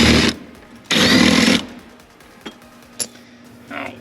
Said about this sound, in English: All right, so we got our 18mm socket. We're gonna pop out these bolts.